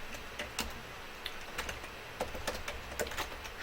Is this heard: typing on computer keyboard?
yes